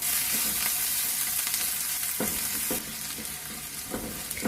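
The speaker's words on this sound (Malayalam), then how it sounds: "കനം കുറച്ച് നീളത്തിലരിഞ്ഞ് ഇഞ്ചി ചേർത്ത് കൊടുക്കാം" Garlic and thin strips of sliced ginger fry in hot oil for a Kerala-style prawn roast, giving a loud, continuous sizzle with occasional scraping stirs in the pan.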